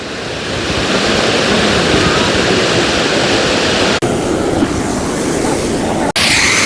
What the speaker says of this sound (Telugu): బ్యాక్ సైడ్లో వాటర్ ఎలా ఫ్లో అవుతున్నాయో కొండపై నుంచి